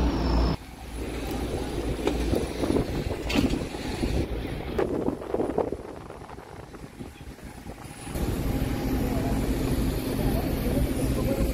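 Engine noise fills an airplane cabin in flight as a steady, broad drone, with someone speaking over it and brief clatter in between.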